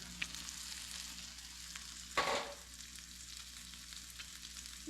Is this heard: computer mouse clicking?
no